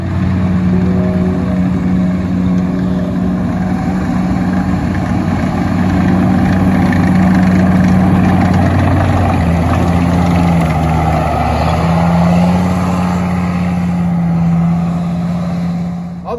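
An M4 Sherman tank's engine, restored from a wreck, running steadily with a loud continuous low rumbling drone heard close for the whole stretch, with no talking.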